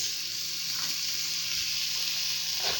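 Carrots and green peas frying in a pan while baked vegetable rice is prepared, producing a steady, close, bright sizzle that carries on without a break.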